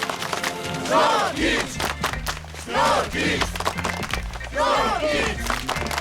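A large crowd roars and cheers in loud swelling waves, with a busy clatter underneath that sounds like clapping.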